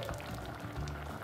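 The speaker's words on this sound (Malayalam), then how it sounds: "ഇനി അതിലൊന്ന് തിളക്കുക. അതിപ്പോൾ നന്നായിട്ട് തിളച്ചിട്ടുണ്ട്." Green pea curry bubbles at a steady boil in a pan, a soft continuous burble of popping bubbles at low volume with no talking.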